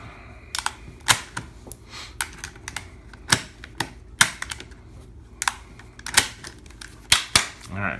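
Rifle cartridges are pressed by hand one at a time into a magazine, giving a series of sharp, close metallic clicks at an irregular rhythm with brief gaps between them.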